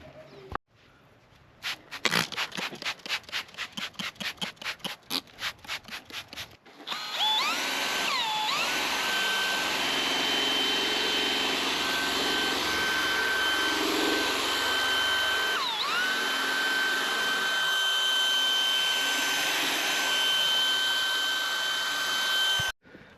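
Power polisher whirs on the bumper of a classic Mercedes W201 190E, a steady high-pitched motor drone held for about fifteen seconds with slight pitch dips, preceded by rapid clicking and rattling.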